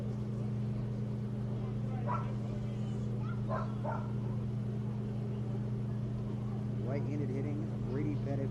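Dogs in a baseball stadium crowd barking at a doorbell sound played over the speakers, several short yips and barks rising over a steady loud hum and crowd noise, with a commentator talking throughout.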